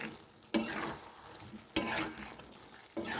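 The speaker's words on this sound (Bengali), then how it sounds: "এবারে টক দইটা দিয়েও খুব ভালো করে মিশিয়ে নেব" Yogurt being stirred into a potato and cauliflower curry in a pan: three scraping strokes of the spoon against the pan over a steady, quiet sizzle, with no voices.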